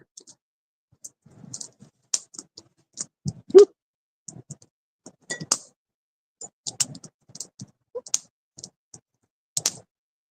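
A glass jar clinks and taps in scattered, sharp knocks while water is put in for herbal tea, close and fairly quiet with short gaps between each contact.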